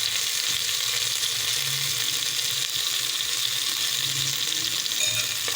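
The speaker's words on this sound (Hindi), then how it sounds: "हरी मिर्च भी थोड़ी फ्राई हो गई है।" Green chillies frying in a pan for moong dal khichdi, a steady continuous sizzle, close and constant throughout with no talk.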